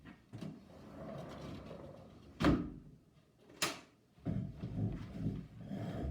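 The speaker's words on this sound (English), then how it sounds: "I'm going to reach over here and close my door." A door pushed shut with two sharp thuds and a brief slam, heard close in a quiet room amid light handling noise.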